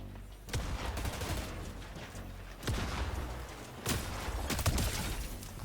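Fortnite gunfire crackles in a battle, with three sharp shots spaced a couple of seconds apart over a constant low rumble of game noise. The shots are fairly faint and there is no talk.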